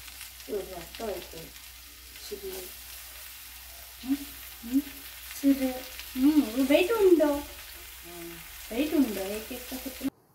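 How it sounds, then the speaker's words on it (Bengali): Prawns fry in a pan with a soft, continuous sizzle and light stirring beneath intermittent talking. "এবার চিংড়ি মাছগুলো জলের মধ্যে রাখা আছে, সেগুলো ভালো করে একটু চিপে চিপে জলটা বের করে এটার মধ্যে দিয়ে ভাজতে হবে।"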